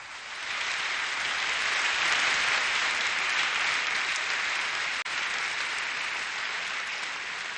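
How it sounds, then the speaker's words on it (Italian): A concert audience in Nuoro applauds, a loud sustained wash of clapping that swells in after a brief start and holds steady throughout, with no speech on top. "ancora una volta ancora un applauso"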